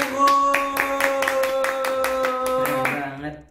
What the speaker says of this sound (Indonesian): Boleh kita bagi tepukannya gemuruh.